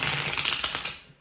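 Tarot cards riffle and slap together in a quick, close, rapid fluttering burst that dies away after about a second.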